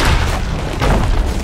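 A loud, dense boom from a gold exploding enemy in the pirate game Sea of Thieves, with rumbling low-end bursts sustained through the clip and no clear speech.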